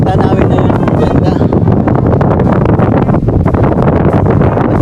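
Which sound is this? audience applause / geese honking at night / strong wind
strong wind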